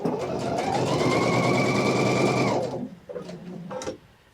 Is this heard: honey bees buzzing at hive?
no